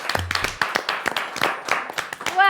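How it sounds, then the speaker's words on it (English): Children on a studio game show clapping for a team, a short burst of sharp, fairly sparse hand claps in uneven rhythm, close and bright, with a brief tone near the end. "A round of applause!"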